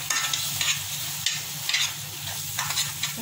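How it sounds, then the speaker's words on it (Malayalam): Coriander, turmeric and garam masala are stirred into mutton curry in a hot pan, giving a close, dense sizzle with repeated scraping strokes of the spoon at an uneven rhythm. "മല്ലിപ്പൊടി, മഞ്ഞൾപ്പൊടി, ഗരം മസാല നന്നായി ഒന്ന് മിക്സ് ചെയ്ത്"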